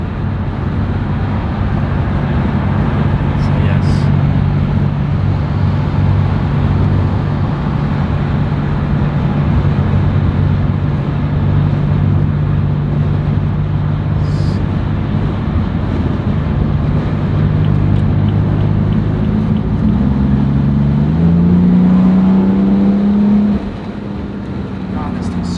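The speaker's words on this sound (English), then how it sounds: "I might just miss the sound of this thing. Stock exhaust with just downpipes, and it sounds amazing." Low, steady engine drone from a 600 hp BMW F80 M3 with stock exhaust and downpipes runs throughout a hard drive, with pitch climbing near the end as the revs build, over constant road and wind noise.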